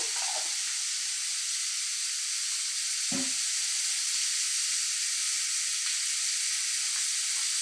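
Turmeric powder hits hot oil in a pan for fish curry, giving a loud, steady broadband sizzle and hiss that runs throughout, with a couple of brief stirring clinks.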